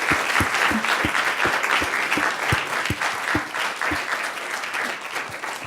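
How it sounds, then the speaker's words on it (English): Applause from an audience at an award ceremony, continuous clapping with a few nearby hands beating out distinct, fairly regular claps over the wash, easing slightly toward the end. "And one more round of applause for everyone."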